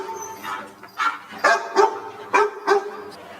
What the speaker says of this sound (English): they hear a barking sound of a dog